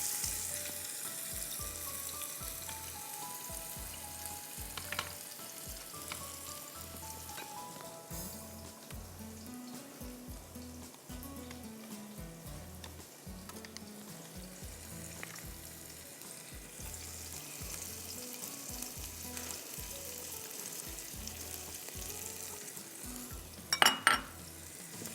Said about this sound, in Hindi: प्याज को मुझे बहुत खूबसूरत सा गोल्डन करना है